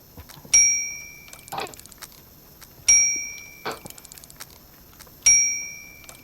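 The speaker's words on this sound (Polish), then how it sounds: "Fajny dzwoneczek." A small bell rings three times in the video game Syberia, evenly spaced about two seconds apart, each ring a bright ding that decays, with softer clicks and thumps between them.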